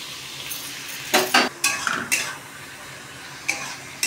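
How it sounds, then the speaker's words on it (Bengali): Potatoes and onions frying in a pan, a low sizzle under several sharp metallic scrapes and clinks of a spoon stirring against the pan, no speech. "এবার আমি আলু পেঁয়াজটা ভালো করে ভাজবো"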